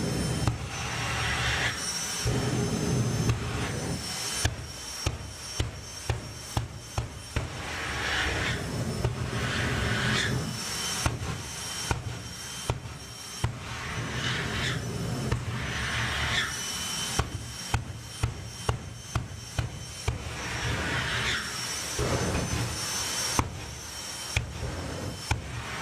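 Jet dragsters Fire Force and Firestorm putting on an afterburner show at an FIA drag racing event, a continuous roar broken by repeated sharp bursts and pops in uneven rhythm, loud and close.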